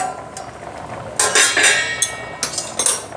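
A metal lid goes onto a pot of boiling jackfruit seeds in a home kitchen, giving a series of sharp clinks and clatters, close and fairly loud, with a few lighter taps as it settles.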